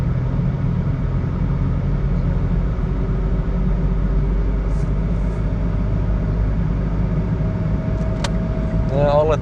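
A continuous low rumble of road traffic heard from inside a vehicle on a highway, with a Volkswagen car passing alongside, steady and fairly loud throughout.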